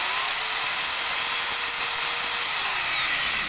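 A Hitachi 100V power drill runs steadily in hammer mode, a loud continuous high-pitched whine with a slight pitch drift, close up and with no talk over it.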